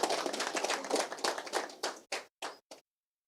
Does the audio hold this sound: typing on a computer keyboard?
no